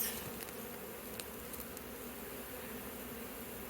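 A swarm of honey bees hums in a continuous, dense drone while being moved into a box during a colony removal in Corona, with no voices.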